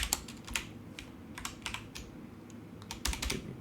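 Keys on a computer keyboard are tapped in short irregular bursts, close and fairly faint, with no talk during the typing.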